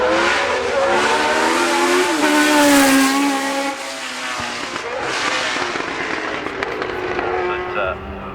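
A 3-litre racing car engine at the Goodwood Festival of Speed revs loud and near, its pitch climbing and falling through a few strong surges before fading slightly, with a voice talking over it.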